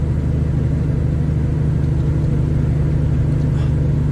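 Steady low drone of a road train truck's engine with its cooling fan running, heard from inside the cab while slowing on a mountain overtaking lane; continuous and loud with no talk.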